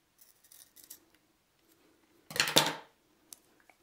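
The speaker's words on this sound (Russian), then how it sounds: "И теперь ножницами срезаем вот по эту часть." Scissors cut through part of an empty aerosol can, giving one loud, close metallic snip-and-crunch lasting about half a second, with a few faint handling clicks before and after in an otherwise quiet room.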